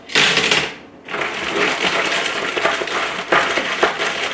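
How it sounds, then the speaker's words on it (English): Mixed rough rocks poured into a rock tumbler barrel to top it up: a loud close clattering rush, a brief pause, then a longer run of rattling and crunching stones. "So I'll use some of them just to top up"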